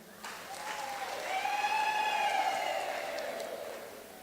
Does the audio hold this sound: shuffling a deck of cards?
no